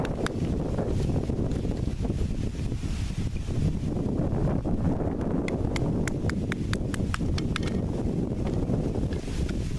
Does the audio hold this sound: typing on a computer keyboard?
no